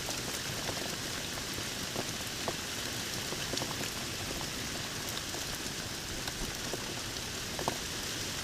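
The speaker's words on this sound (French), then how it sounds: "Il y a de la grêle maintenant." Steady hail patters densely on rocky mountain ground and surfaces along the GR20 trail in Corsica, a constant hiss with scattered sharper ticks of individual stones, no voices.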